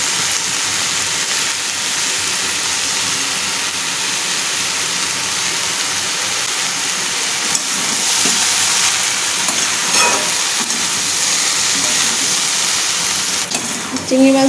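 Salt-and-turmeric-coated prawns fry with banana stem and pumpkin in a pan, making a continuous loud, close sizzle with occasional stirring clatter and a few brief bumps toward the end.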